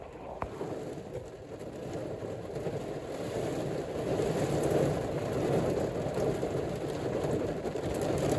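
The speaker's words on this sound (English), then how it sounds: "I hear a whole lot of rain." Heavy rain pours steadily in Jamaica during a storm with the power out, a thick continuous roar that swells louder midway and stays dense to the end, with one sharp tap near the start.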